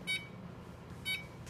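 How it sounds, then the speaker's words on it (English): While bread bakes, a kitchen timer is being reset and gives two short electronic beeps about a second apart, faint against a low background hum. "so now we reset the timer for 25 minutes"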